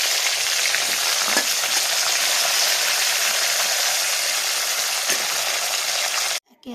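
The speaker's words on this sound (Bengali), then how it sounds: "সিমগুলো এক এক করে ছেড়ে দিচ্ছি, ভাজবে" Flat beans (sim) fry in oil, a loud dense sizzle and crackle holding steady close by, with a couple of faint clicks, before cutting off abruptly at the end.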